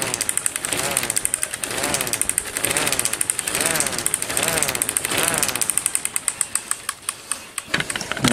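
A K'Nex 2001-130 toy siren is spun by hand, giving a wavering rising and falling whine over a fast rattling clatter that slows into separate clicks near the end.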